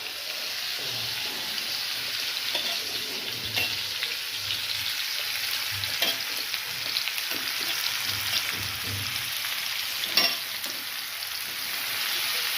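Onions sautéing in a pan hiss with a steady, fairly soft crackle, broken by occasional light clicks and taps of stirring, with no voices.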